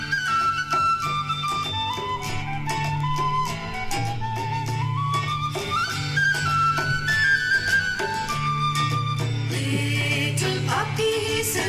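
A recorded children's song plays as bright, tuneful music over a steady repeating bass line and crisp rhythmic hits, loud and continuous throughout.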